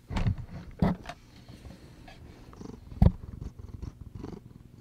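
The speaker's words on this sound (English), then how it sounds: "He's purring so loud right now." Mocha, a pet cat, purrs loudly and close up in a continuous rumble, with a few soft bumps and rustles of handling and no talking.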